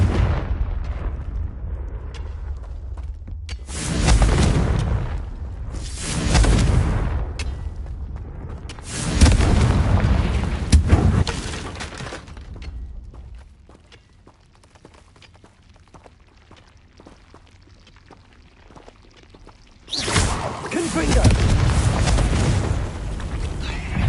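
Spell explosions from the Hogwarts Legacy video game, Bombarda and Confringo blasts, come as several loud booming bursts in clusters with a gap of quieter rumble between them.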